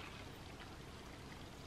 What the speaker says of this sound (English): So I'm gonna use this to pour the water in.